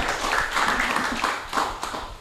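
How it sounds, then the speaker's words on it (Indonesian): Audience clapping for a speaker at a talk on a constitutional court ruling, a moderately loud, dense patter of hands with uneven swells throughout the short stretch. "tepuk tangan untuk uh, narasumber kita"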